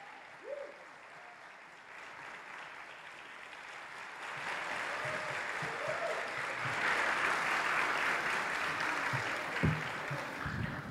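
Audience at a live hypnosis stage show applauds its stars, clapping building from scattered hands to a full, sustained ovation with a few whoops and voices mixed in.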